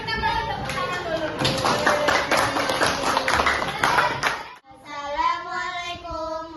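A fifth-grade class claps for a student group about to present, a few seconds of quick, uneven clapping mixed with children's voices, then a single voice speaking alone.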